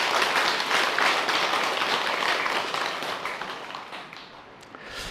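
A congregation of Buddhist worshippers at a temple Dharma talk applauds together: dense, sustained clapping from many hands that holds steady and then slowly fades toward the end, with no voices over it.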